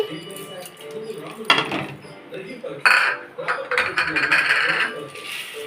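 Urad dal and lentils frying together in a pan, with a spoon scraping and clinking against the metal in scattered bursts, while a person speaks over the cooking.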